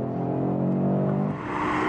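2022 Audi RS3 driving through S-curves on a road, a steady engine drone with a slight rise and fall in pitch as the car works through the bends.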